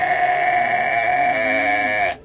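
A sheep bleats once as a sound effect, a loud, sustained, wavering call up close that lasts about two seconds and then cuts off abruptly.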